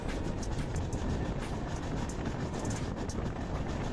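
The Mumbai Rajdhani Express of Indian Railways runs on its rails, a loud, continuous rumble and roar with faint rhythmic clatter from the wheels.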